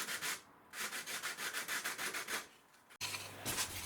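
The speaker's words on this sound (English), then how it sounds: "Finishing off with some hand sanding" Hand sanding a wooden catamaran bulkhead by rubbing back and forth in a quick, even rhythm of close, scratchy strokes, ending with a sharp click as a steady machine hum starts underneath the continuing scrubbing.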